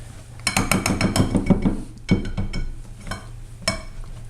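Buckwheat galette batter stirred in a bowl with a utensil, giving loud, close scraping and clinking strokes in quick bursts with brief pauses, no voice over it.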